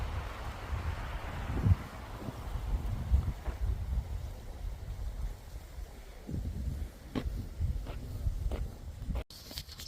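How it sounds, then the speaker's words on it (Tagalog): Strong wind on a mountain during a family evening hike, a steady low buffeting roar with rising and falling gusts right against the microphone, no voices. "Ang lakas ng hangin guys."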